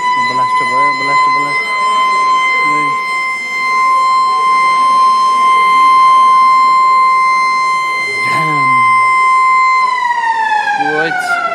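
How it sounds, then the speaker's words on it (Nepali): A loud, steady civil-defense warning siren wails continuously before a tunnel breakthrough blast, its pitch sliding downward near the end, while people talk faintly underneath. "साइरन खतरा रहेछ, साइरन सेकेन्ड साइरन बज्यो"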